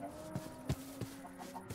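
A chicken in Minecraft clucking, several short clucks in quick succession, close and clear with a faint background tone.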